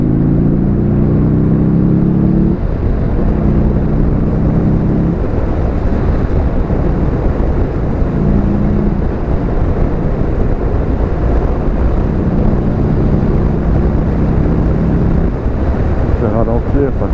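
A Buell motorcycle accelerates under throttle on a country road in northern France, its engine note rising in repeated stepped pulls through the gears, loud and close beneath heavy wind rush, with a rider's voice heard briefly.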